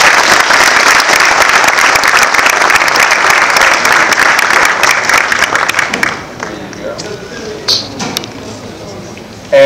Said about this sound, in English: Let's give the gentleman a round of applause.